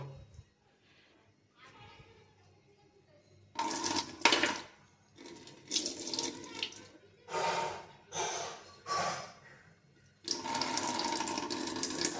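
Water being poured off washed rice, several bursts of splashing and trickling liquid separated by short pauses, ending in a longer steady pour, with a voice talking softly at times.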